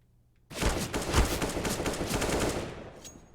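AK rifle bursts crackle through a Counter-Strike: Global Offensive match, a sudden rapid volley of automatic fire lasting about two seconds before tailing off, with no voices.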